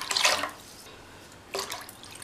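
Water poured into curry masala paste for a kara kuzhambu, two short splashy pours a moment apart, close and moderately loud with no voices.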